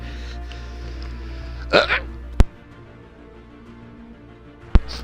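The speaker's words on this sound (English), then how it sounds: "That weird noise was me attempting to hold said sneeze" A gamer's held-back sneeze comes out as a short strangled, hiccup-like squeak at close range, followed by two sharp clicks in an otherwise quiet room with a low steady hum.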